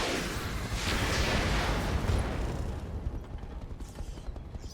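Area-of-effect blast from the APOD weapon in a BattleTech-style mech game: a dense, rumbling wall of low explosive noise that swells loud and broad for a couple of seconds, then thins into a fading crackling tail.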